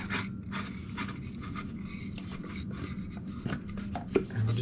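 Hayward Super Pump impeller spun clockwise by hand onto its shaft, held with a 7/16 wrench, during a pump seal replacement; close, steady scraping and rubbing with a few small knocks and clicks, no voices.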